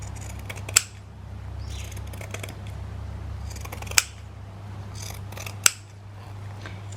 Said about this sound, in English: I'm going to cut off the holes